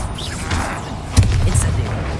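Confringo, an explosive fire spell in Hogwarts Legacy, bursts in a booming blast with a sharp crack near the middle, over a dense rumbling game soundscape.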